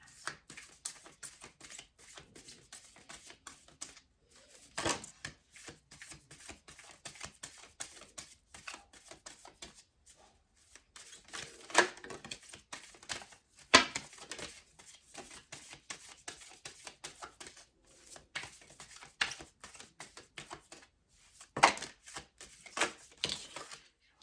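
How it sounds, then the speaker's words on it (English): Crisp bursts of riffling cards repeat in several runs with quiet gaps between, close by and fairly soft. "Let's shuffle for a minute, Spirit."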